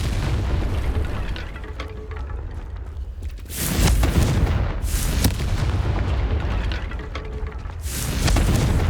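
Confringo spell blasts in the video game Hogwarts Legacy, loud booming fiery bursts recurring roughly every four seconds over a dense, rumbling game soundscape.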